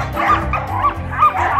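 Samoyed puppies bark and yip excitedly in a close, loud chorus, with high yelps and whimpers overlapping in quick bursts.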